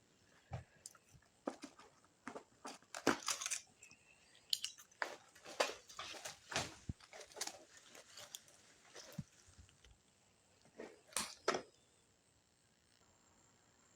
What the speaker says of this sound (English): going to cut the stems from the crown of the plant